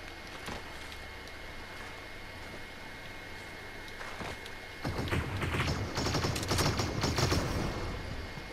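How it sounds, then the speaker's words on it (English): Fortnite gunfire crackles as distant rapid bursts over steady game ambience, then becomes louder and denser in the second half. "People just shot at me."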